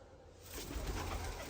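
Soft, low cooing of pigeons close by in a pigeon loft, rising after a quiet start and continuing in a gentle rolling murmur.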